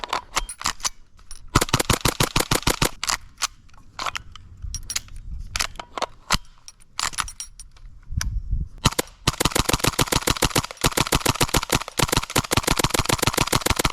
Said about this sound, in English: Looks like we still have some BBs left in the magazine, so let's get rid of those real quick.